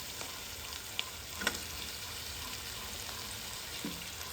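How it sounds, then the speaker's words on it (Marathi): Tomatoes and onions fry in a pan with a steady, close sizzle, broken by a few light clinks of stirring. "आता घालया हितून टमाट आणि टमाटे मातशे फ्राय करूया"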